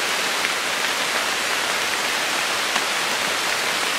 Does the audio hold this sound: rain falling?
yes